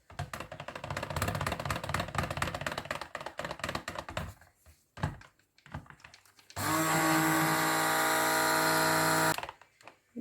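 A stick blender whirs steadily through a batch of shea and lavender soap batter, a loud continuous motor hum lasting several seconds after some clattering handling noises and brief pauses.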